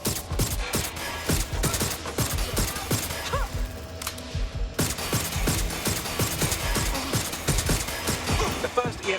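Video-game gunfire in Watch Dogs: Legion, rapid repeated shots and mechanical clatter running continuously at close range, with a brief pause midway before firing resumes steadily to the end.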